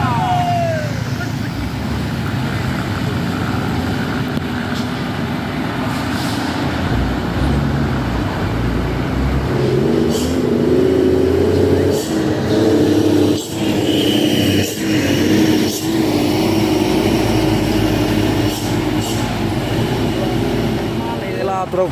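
A heavily loaded FAW trailer truck carrying steel struggles to climb a hill, its engine rumbling and droning continuously with shifting tones, close and loud, against road noise while someone talks over it.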